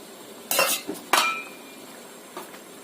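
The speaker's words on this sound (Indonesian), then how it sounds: "Kita masukkan nanasnya" Pineapple dropped into a simmering pot of fish dish, a few sharp clinks and knocks against the pot with quieter splashes between, close and clear over a faint bubbling background.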